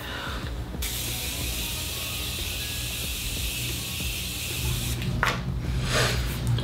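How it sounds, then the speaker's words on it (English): Makeup setting spray mists out in a close, steady hiss for most of a second, then pauses before a second short burst of spraying, with soft handling noise in between. "I'm going to take this setting spray."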